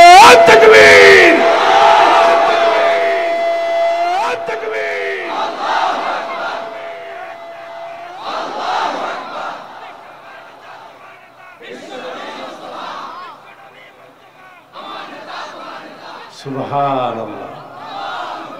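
A large crowd at a Bengali Islamic waz sermon gathering roars a religious takbir slogan in loud, repeated collective shouts, with a sustained voice leading and the crowd answering in surging bursts.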